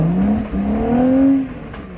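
Engine of a 4WD vehicle revving while rock crawling on an extreme track at Wheeny Creek, a short rising and falling drone close by, steady and moderately loud.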